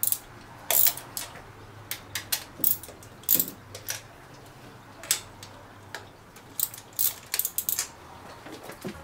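A hand ratchet clicks in short, uneven bursts while a carburetor is unbolted from a Camaro engine. The crisp metallic ticks sit close and fairly loud over quiet garage background, with brief gaps between runs of turns.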